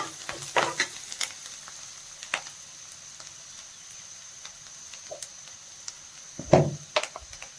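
Turmeric frying in a pan for a drumstick (moringa) fry, heard as a soft, quiet sizzle with a few sharper stirring and scraping clicks near the start and near the end.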